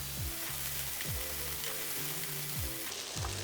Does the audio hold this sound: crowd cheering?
no